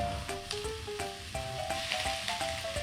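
Seasoned bean sprouts go into a hot pan of stir-fried squid, giving a steady close sizzle and hiss with occasional stirring scrapes, over a faint melodic background tune.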